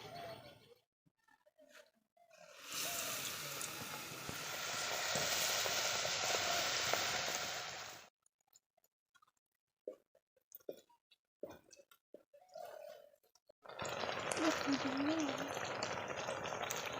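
Eggplant fritters fry in hot oil, giving bursts of loud crackling sizzle in two long stretches, separated by quieter gaps of small clatter and brief sounds.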